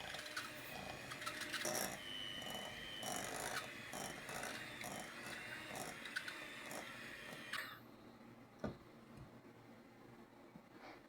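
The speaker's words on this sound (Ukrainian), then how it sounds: "Масло з сіллю розтираю, додаю цукор, включаю міксер, все перемішую" An electric mixer creaming salted butter with sugar whirs steadily with a rattling, grinding drone for several seconds, then cuts off, leaving faint clicks and a single knock, close and quiet with no talking.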